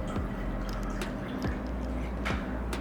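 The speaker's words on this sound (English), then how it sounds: "I'm just gonna pour a little bit of water onto this." Water is poured into a glass of whisky: faint, scattered drips and small splashes, fairly close and quiet, with no talk.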